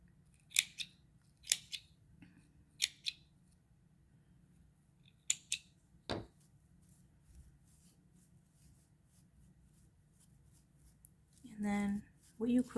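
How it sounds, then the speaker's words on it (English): Scissors snip lace for a handmade flower: several sharp, close cuts in quick pairs, spaced out over quiet, followed by a few soft rustles and a brief voice near the end. "And just kind of keep doing this and just cutting it to make it piecey."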